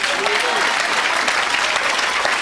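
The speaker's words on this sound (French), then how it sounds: "Acclamez pour Jésus." A church congregation applauds steadily, with dense, continuous clapping and some cheering filling the whole stretch at close range.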